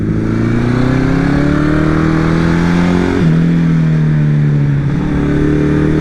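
A Honda CB750 motorcycle engine idles steadily while warming up, a loud, close, continuous drone with a brief dip in pitch partway through and no talking over it.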